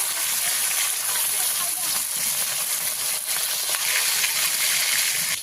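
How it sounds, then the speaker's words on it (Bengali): Pieces of fish frying in hot oil, giving a dense, continuous crackling sizzle close to the microphone, with small pops and scrapes as the pieces are turned. "উল্টো পাল্টি মাছগুলোকে ভেজে নেব।"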